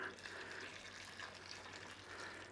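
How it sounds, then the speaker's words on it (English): Water runs steadily into a cooking pot on a lit stove while Dublin coddle, a traditional Irish stew of potatoes, is being made; a continuous close, moderate pour with no talk over it. "we're going in there with a bit of water"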